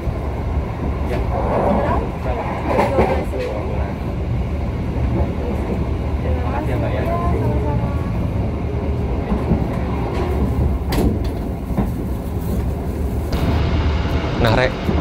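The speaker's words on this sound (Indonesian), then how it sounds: "di perjalanan naik kereta api Logawa dari arah Jember sampai ke Surabaya ini" Inside the Logawa business-class train from Jember to Surabaya, a steady loud rolling rumble with rattling carriage noise and occasional clacks continues throughout.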